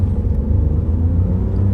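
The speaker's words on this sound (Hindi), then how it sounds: "अगर हम फुल थ्रॉटल पे एक्सेलरेट करते हैं" A Toyota Vitz (Yaris hatchback) with a 1000cc engine accelerating at full throttle in Pakistan, giving a loud, steady low engine rumble and whir from inside the car, with no talk.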